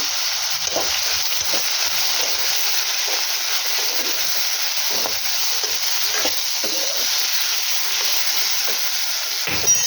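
Pumpkin curry seasoned with salt and turmeric is stirred in a pan, giving a steady close sizzle with soft scraping strokes running throughout.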